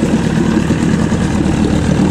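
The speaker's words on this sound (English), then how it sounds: "Nice running mid-90s Evinrude, 20, 25 horsepower." A mid-90s Evinrude 20/25 horsepower outboard motor runs steadily at a low idle, a loud, close, continuous droning rumble with no break.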